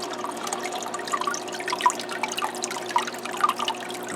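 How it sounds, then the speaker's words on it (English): Water trickles and splashes over rocks in a small waterfall inside a red clawed crab tank, a steady close bubbling flow with soft dripping accents and no voices. "If you look right here where the water's flowing"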